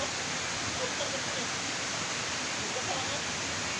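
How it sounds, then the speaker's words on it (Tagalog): Strong typhoon Enteng wind and driving rain roar as a steady, dense broadband rush, close and loud without letup and with no clear gusts standing out. "Grabe, sobrang lakas ng bagyong Aintong dito guys."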